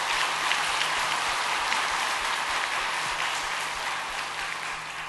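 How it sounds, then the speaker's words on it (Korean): A Sunday afternoon church congregation claps in thanks to Pastor Kim Jin-sam, producing a thick, hissing wall of applause that sounds almost like heavy rain, steady and sustained from start to finish. "오늘 우리 위에 오셔서 귀한 말씀을 전해주신 김진삼 목사님께 박수로 감사의 마음을 전하겠습니다"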